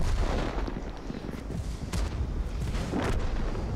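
Artillery fire in World of Tanks rumbles with continuous booming and dense, muffled blasts that overlap into a loud, unbroken wall of low roar for the whole stretch.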